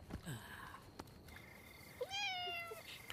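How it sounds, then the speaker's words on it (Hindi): A cat gives one clear, drawn-out meow near the end of a quiet indoor scene in a South Indian Hindi-dubbed action film. Soft clicks and small movements come before it. "हाँ, दूसरी बिल्ली।"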